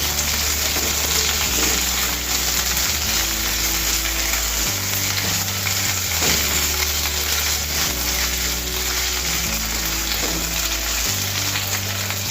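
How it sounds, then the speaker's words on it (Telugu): Ginger garlic paste and chopped green chillies fry loudly in a pan for aloo matar pulao, a dense continuous sizzle with occasional stirring scrapes over a steady low hum, and no voices. "కొంచెం వీటిని వేయించుకోవాలి బ్రౌన్ కలర్ వచ్చే వరకు"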